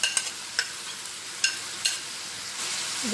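Minced garlic and chopped small onion sizzle softly in a pan as a spatula stirs them, with several sharp scraping clacks spaced irregularly over a steady low hiss.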